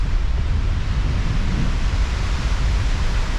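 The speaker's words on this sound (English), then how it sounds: "Oh yeah, there comes a good gust." A strong wind gust on a mountain trail near Clingmans Dome, a loud, dense, continuous rush battering the microphone with no talking.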